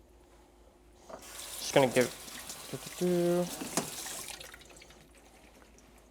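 Tap water runs over something held under it for a quick rinse, a short steady flow midway through, with brief splashes before it and speech around it.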